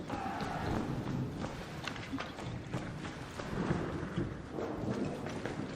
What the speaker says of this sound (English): That was a lightning strike. That was pretty intense. Shook the whole building.